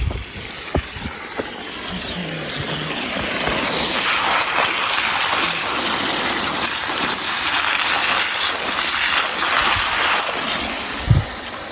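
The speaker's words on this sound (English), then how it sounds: "I wash mango first." Mangoes being washed outdoors in Jamaica, a continuous broad rush of running, splashing water with a few knocks and bumps, close and steady throughout.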